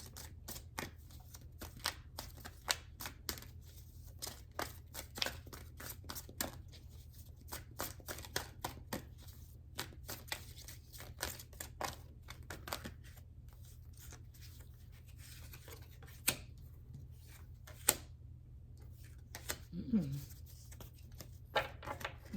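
Tarot cards are shuffled at length, a steady run of soft riffling and clicking bursts with brief pauses, close by, with a faint low hum underneath and no talk.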